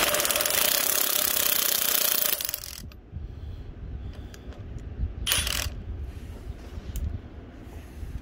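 A wrench working a bolt on a low-budget go-kart: a loud, dense grinding rasp of metal up front, then quieter scraping and clicking with a few sharp metallic ticks.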